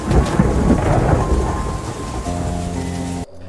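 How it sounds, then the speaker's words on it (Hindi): Thunder rumbles loudly over steady heavy rain, then gives way to a lower sustained tone before cutting out abruptly near the end. "गड़गड़ाहट के साथ बारिश होने लगी।"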